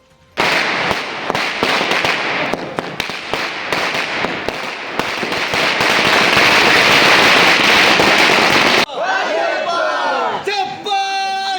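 Dense firecrackers rattle loudly and continuously as BJP workers celebrate a Delhi election win at Gandhi Chowk in Dharchula. The crackling runs near-unbroken for about eight seconds, then gives way to a few sharper whistling bursts.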